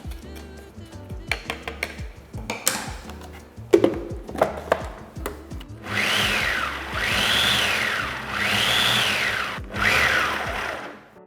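A blender whips strawberry cheesecake filling: first scattered clinks and knocks of stirring, then from about six seconds a loud motor roar that rises and falls in repeated surges, with a brief pause before a final burst.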